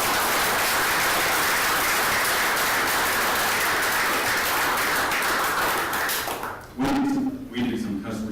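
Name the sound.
applause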